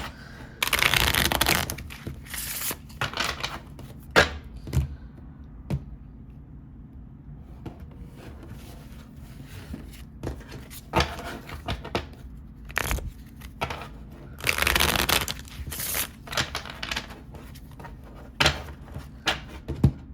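Tarot card deck being shuffled by hand, bursts of crisp riffling and flicking that come in bunches with quieter handling and pauses between them, close and fairly loud, no talking.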